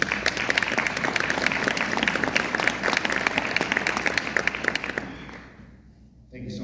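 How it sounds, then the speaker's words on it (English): A town hall audience in Alamogordo, New Mexico gives a full round of applause, dense clapping at close range that fades out near the end before a voice resumes. "We can have a round of applause for that kind of opportunity"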